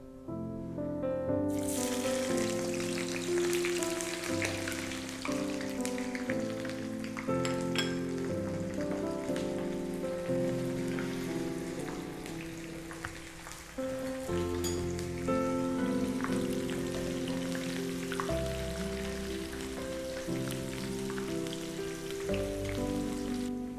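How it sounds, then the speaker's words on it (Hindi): Two finely sliced long onions deep frying in hot oil in a home kitchen give a steady, dense sizzle and crackle. It runs unbroken and fairly close, with a faint musical tone underneath and no talking. "जो 2 प्याज हमारे पास थे उनको हम बारीक लंबा काट लेते हैं और डीप फ्राई करके गोल्डन करके निकाल लेते हैं"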